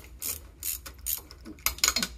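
A ratchet loosens the thrust bearing clamp bolts on a Fadal 4020 CNC machine, giving several quick, close bursts of metallic clicking in an uneven rhythm.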